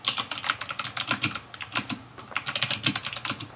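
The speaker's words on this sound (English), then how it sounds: "the sky blue switch set I ordered is a clicky one" Rapid, crisp clicks of a Hex Gears X3 TKL mechanical keyboard with clicky sky blue switches being typed on, close and steady with brief pauses between bursts.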